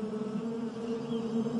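A fly buzzes continuously close by in a film trailer, a steady droning hum with slight wavering and no speech.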